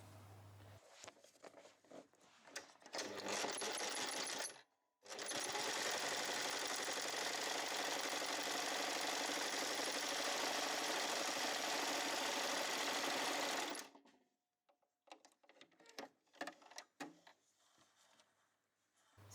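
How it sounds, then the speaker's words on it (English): A sewing machine stitches across the top of a fabric scrunchie, running as one steady whirring burst of about nine seconds, framed by short stop-start runs of the machine. "we're just going to go and sew along the top"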